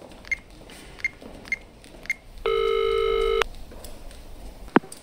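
Telephone dialing and a call connecting: several short beeping tones at regular intervals, then a loud sustained electronic ring tone lasting about a second, followed by a brief click.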